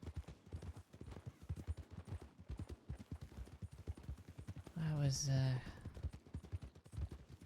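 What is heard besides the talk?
horse hooves galloping, from a video game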